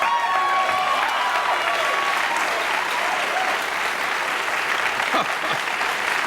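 A studio audience at the Johnny Carson Show applauds steadily throughout, a dense, loud wash of clapping with a few scattered shouts and crowd noise mixed in.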